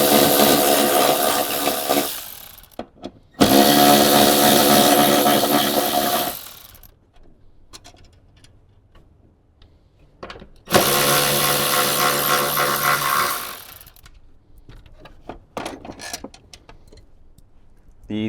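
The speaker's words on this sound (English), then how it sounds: "So we can take our 10mm socket and get all 3 of those out." A power tool running a 10mm socket backs out three bolts from an amplifier inside a Toyota Tundra, whirring in two long loud bursts with short pauses and quieter handling noise between.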